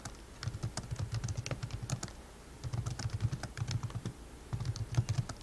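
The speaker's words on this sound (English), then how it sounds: "And then I'm going to start typing." Quick clicks of keys on a computer keyboard come in bursts separated by short pauses, soft and nearby, with no talking.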